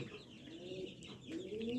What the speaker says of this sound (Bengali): দেখেন মিশরি ফাউমি মুরগির বাচ্চা এগুলো